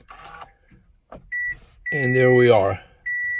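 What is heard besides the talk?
2016 Toyota Camry XLE keyless push-button start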